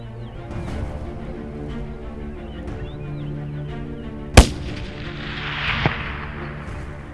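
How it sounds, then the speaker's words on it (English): A single sharp rifle shot cracks out during a kudu hunt in open country, a loud isolated report over steady outdoor background, with a softer thump a moment later. "Great shot, Dennis."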